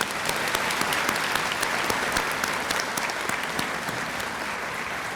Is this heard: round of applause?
yes